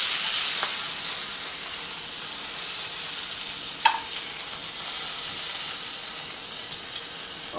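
Queen fish fillets sear in a hot pan with a steady, close sizzling hiss that runs throughout, broken once by a brief sharp click partway through.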